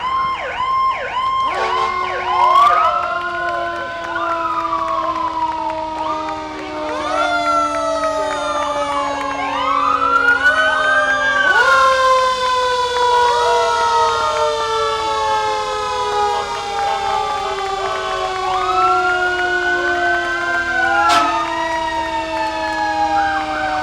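Fire engine sirens from Lee Engine 2 and Engine 3 rolling through a town Founders Day parade, several overlapping wailing sirens rising and falling loudly and continuously, with a brief air-horn-like blast near the end and no talking.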